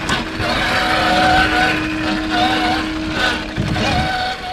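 An Axial SCX6 1/6 scale RC crawler's electric motor whines steadily as it drives over rocks and cobbles, with a sustained close hum rising and falling slightly and some scraping underneath.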